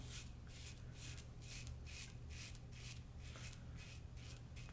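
A Fatip Grande open comb razor shaves several days of beard growth in quick, regular scraping strokes, about two or three per second, close and quiet with no talking.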